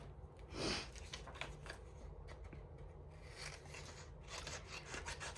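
Paper being torn for an art journal, quiet close rasping rips and rustles repeating over several seconds, with one louder tear near the start.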